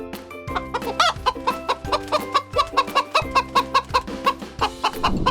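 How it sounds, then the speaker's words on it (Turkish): Hens clucking in a rapid, uneven stream of short calls, close and fairly loud, with no voices. "Tavuklar gıt gıt gıt gıt diye ses çıkarır."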